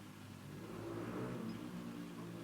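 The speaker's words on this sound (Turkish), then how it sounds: "Bak şu dışarıdan motor sesi geliyor." Faint engine drone from outside, a steady low hum that swells slightly in the middle, quiet and distant.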